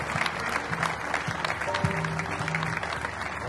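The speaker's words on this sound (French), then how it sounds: "Par acclamation, s'il vous plaît." A seated assembly at a national dialogue session rises and applauds by acclamation, steady continuous clapping from a large crowd held at an even level throughout, with a few voices faintly under it.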